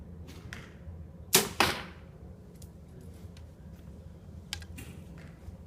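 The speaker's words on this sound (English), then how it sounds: "wanted you to kind of hear the bow from the same spot. There, because we'll do that same spot for all three of the bows" Compound bow (Synergy, Carbon Spyder Turbo ZT or HTR) shot indoors gives one sharp, loud twang and thump, followed by a few faint clicks and taps in a quiet room.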